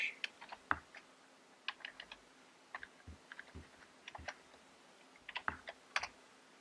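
Someone types a terminal command on a computer keyboard while installing Chef Server 12 on Ubuntu 14.04, with quiet, close, irregular keystrokes and clicks separated by short pauses.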